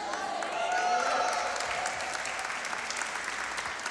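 A church congregation applauds loudly and steadily throughout, with dense clapping and crowd noise under a pastor's amplified voice.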